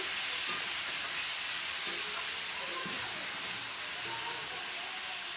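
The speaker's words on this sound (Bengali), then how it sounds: "দেখো মোচাটা এবার করে নিচ্ছি আমি আদা দিয়ে বাটা দিয়ে" Banana flower, boiled first, cooking in a pan with ginger paste: a steady, soft sizzle and hiss of frying runs throughout with faint stirring scrapes, close and continuous, no voices.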